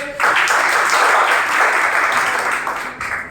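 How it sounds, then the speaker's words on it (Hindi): Classroom students clap loudly together, a sudden full burst of applause that holds steady for about three seconds and then thins out near the end. "बताओ भाई, ताली जोर से।"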